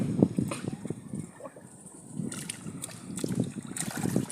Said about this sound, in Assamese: এই ল'ৰাটোৱে নাও বাই আছে